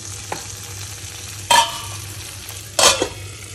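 Spice paste for a banana-stem ghonto fries in a pan with a low, steady sizzle, broken by two loud scraping bursts of stirring a little over a second apart.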